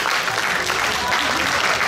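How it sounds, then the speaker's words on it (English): Crowd clapping at a men's physique bodybuilding competition, a short burst of dense applause in a large venue with voices mixed in underneath. "round of applause"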